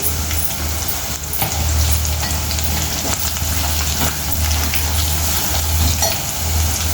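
Taro root curry ingredients sizzle steadily in a pan with turmeric, frying loudly and continuously with occasional stirring scrapes and no talk.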